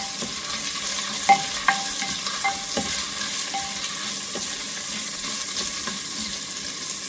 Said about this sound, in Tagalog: Tayo natin medyo mag-brown yung sibuyas para malasa at mabango.